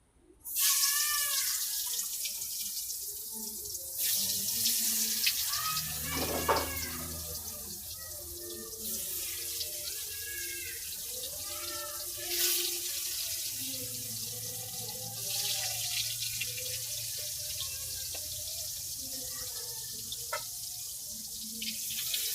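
A kitchen tap runs into a sink while pointed gourds are rinsed, the close water stream starting and stopping several times with splashing and clattering changes in tone as the vegetables are handled under it.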